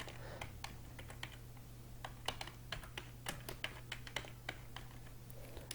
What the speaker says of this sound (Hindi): यहाँ पर हम टाइप करेंगे पाकिस्तानी रुपीज़।